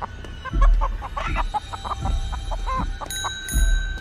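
Chickens cluck in short, close bursts, with a few low thumps and a bright metallic ringing tone near the end.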